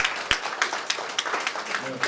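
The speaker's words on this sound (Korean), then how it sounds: "큰 박수 부탁드립니다." An audience at a forum lecture gives sparse, scattered applause, with light claps heard faintly in a quiet hall.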